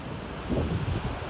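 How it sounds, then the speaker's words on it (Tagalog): Sea waves at Jesolo, near Venice, Italy, wash and rumble low, mixed with gusty wind buffeting the microphone; no voices. "Ito yung dagat nila dito."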